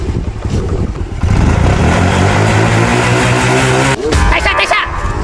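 A motorcycle engine starting and revving before a street race, loud and close with a rough mid-range drone that climbs and holds, briefly cut before another surge, with voices faintly underneath.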